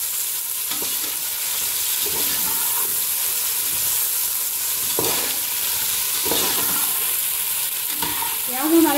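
Chopped medium-sized onions sizzle and hiss steadily in hot oil while being browned and stirred, with occasional scraping of the spoon against the pan.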